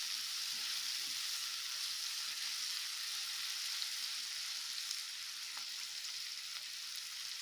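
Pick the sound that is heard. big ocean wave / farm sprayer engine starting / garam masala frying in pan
garam masala frying in pan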